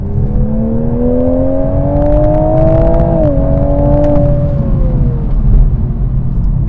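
Turbocharged 3.0-litre B58 engine of a 2024 Toyota Supra revving, a smooth rising whine that climbs, dips briefly, then settles and fades over a deep steady rumble.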